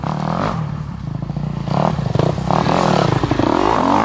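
A dirt bike engine revs and rumbles close by at the start of an enduro ride, rising and pulsing through uneven throttle bursts with some clattering.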